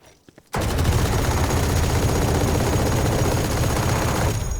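Odin machine gun in Valorant firing one long unbroken burst, rapid loud shots hammering continuously for about four seconds after a few brief clicks, then cutting off.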